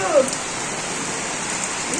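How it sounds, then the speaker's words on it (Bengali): Rain falls steadily in a Bangladeshi village during the rainy season, a loud, even hiss through the whole short stretch. "বৃষ্টি নামছে"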